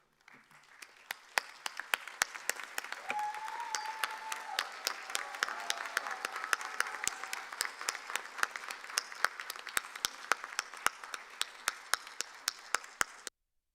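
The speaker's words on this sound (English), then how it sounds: "give them the round of applause they so richly deserve for helping you" Doctoral graduates at a University of Texas at Dallas hooding ceremony applaud their friends and family, a large hall of hands clapping, building into dense sustained applause with sharp close claps on top.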